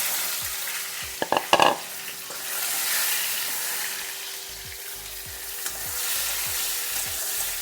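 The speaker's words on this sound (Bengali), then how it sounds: "ওই তেলেই যে বেগুন কাটাও ভেজে নেব।" Small eggplant pieces fry in oil left over from frying fish, a close, steady sizzle. A quick burst of clattering stirs comes near the start, then the frying carries on alone.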